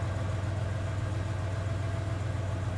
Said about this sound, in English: I hear the sound of an engine revving outside.